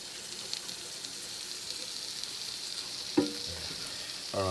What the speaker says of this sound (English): I don't know if you can hear the sizzle yet